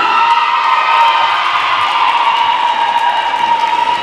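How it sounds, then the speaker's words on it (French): An audience at the Miss Tampon 2022 pageant cheers and whoops steadily throughout. The crowd noise is dense and sustained, with high shouts rising over it. "Je vous demande d'applaudir très très fort Stécie Boucher"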